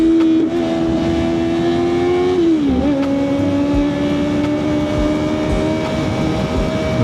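Honda CB650R inline-four motorcycle engine held at a steady high rev, a loud close tonal drone that dips briefly and then climbs back to a sustained howl, with no talk over it.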